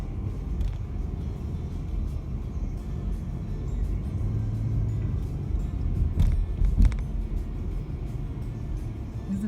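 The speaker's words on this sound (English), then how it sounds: "So now we are getting on to the ferry." A car rolls onto a ferry heading for Whidbey Island, giving a steady low rumble of engine and road noise with a brief louder thump near the middle, and no one speaking.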